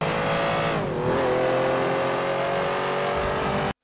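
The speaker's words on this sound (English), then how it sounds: "We have here the sound of this car right here." A car engine drones steadily and loudly, its pitch dipping then holding as it drives, before cutting off abruptly near the end.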